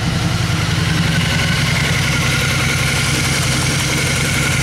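A 2002 Honda Magna motorcycle idles steadily up close, a loud, even, throbbing engine rumble with no gaps or talk for the whole stretch.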